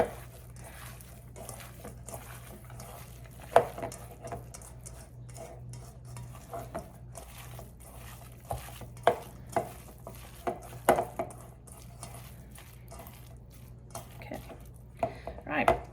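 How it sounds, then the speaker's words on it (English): Cabbage, garlic and onions being worked into ground meat by hand in a bowl, soft squelching and stirring with scattered clicks and taps against the dish, while someone talks. "Just wanna get that cabbage and garlic and onions all incorporated into that meat."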